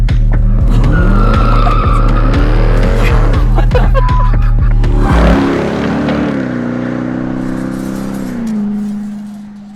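A Dodge Durango Hellcat SRT SUV circles a skid pad, its supercharged engine droning loudly with sustained tire squeal, then the engine note drops off as it coasts and the squeal eases.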